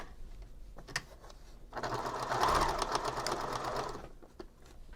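Sewing machine stitching the corner of a braided boho bag, a few short stitches first, then a steady close whirring run of about two seconds that tapers off.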